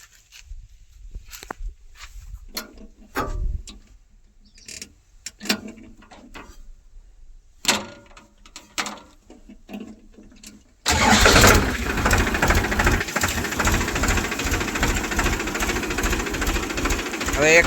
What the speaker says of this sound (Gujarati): હવે આપણે આ ટ્રેક્ટરને ચાલુ કરીએ।